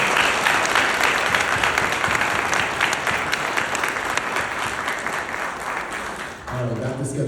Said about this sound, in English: can we please just give them a round of applause